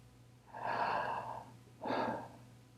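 Two gentle breaths during a guided breathwork session, a longer soft exhale followed by a shorter one, close and quiet over a low steady hum.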